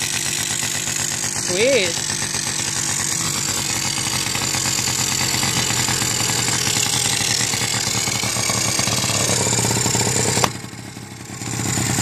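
A rat moped's small engine idles steadily after a spring cold start, a loud continuous putter that runs for most of the stretch before cutting off near the end, with a brief spoken word over it.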